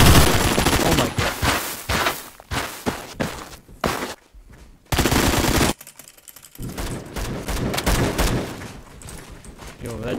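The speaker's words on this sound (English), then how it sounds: "that shotgun sounded manly though" Shotgun blasts and other gunfire in the online shooter game Phantom Forces come as loud, repeated booming bursts with short gaps. Footstep-like clatter and busy game noise fill the spaces, and voices are heard talking.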